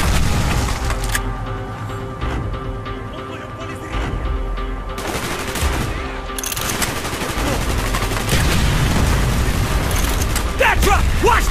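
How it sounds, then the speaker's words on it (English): Bursts of rapid gunfire and booms in a chaotic battle in Call of Duty: Black Ops, with radio-style voices talking over the din. "Gunfire's drawing attention."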